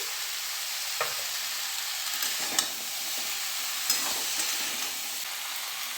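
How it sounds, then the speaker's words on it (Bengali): Ginger paste and tomatoes frying with mixed vegetables for a light vegetarian curry: a constant bright hiss of sizzling oil with a few faint taps and stirs, moderately close, no speech. "আদা বাটা দিয়ে দিলাম, টমেটোগুলোও দিয়ে দিচ্ছি"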